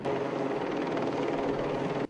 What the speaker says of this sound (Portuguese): O helicóptero da Polícia Militar foi acionado.